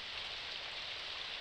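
Rain pours steadily as a visual novel sound effect, an even, hissing wash of dense raindrops that holds constant throughout with no voices.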